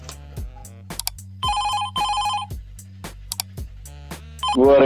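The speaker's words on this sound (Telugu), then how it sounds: "మళ్ళీ ఫోన్ చేస్తున్నారు" A phone ringtone plays in repeated bursts of bright electronic tones over a low musical backing, loud and close, with no talking.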